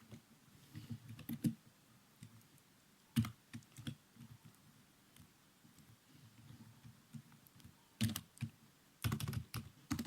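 Quiet, close typing on a computer keyboard while Python code is written, with irregular bursts of key clicks separated by pauses and a few louder clusters of keystrokes.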